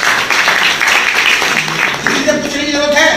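An audience at a business plan presentation claps, a dense burst of applause lasting a few seconds, overlapped by speech.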